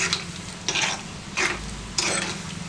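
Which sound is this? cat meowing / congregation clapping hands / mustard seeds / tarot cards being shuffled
mustard seeds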